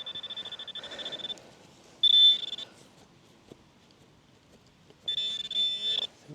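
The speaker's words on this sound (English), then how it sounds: "And a phone going off." A phone or alarm sounds in short, faint electronic beeping bursts outdoors in a field during metal detecting, with quiet rustling and digging noises between the bursts.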